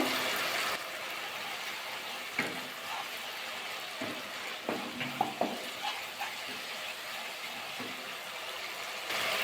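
Masala spices fry in oil in a pan while being stirred, a soft steady sizzle with occasional scraping and clinking of the spoon.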